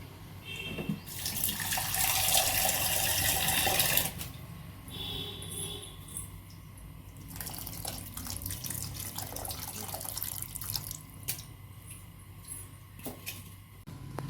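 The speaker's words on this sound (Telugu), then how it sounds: "వాటర్ అయితే నేను కలుపుతున్న కొన్ని." Water pours into a pot of ridge gourd soup on the stove, a loud rushing stream for about four seconds, followed by quieter splashing, trickling and light clinks of the pot, with no talk.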